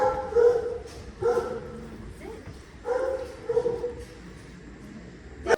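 A dog barks nearby in a few loud bursts, some clustered in quick pairs, with quieter gaps between them.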